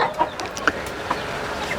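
Chickens and young pullets cluck softly at a nipple drinker in a coop, brief scattered calls rising over a low barn hum, fairly close and with no one speaking.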